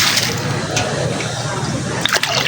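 Water is poured into a bowl outdoors while making a traditional saag dish, a continuous close splashing and trickling stream with a few brief knocks near the end.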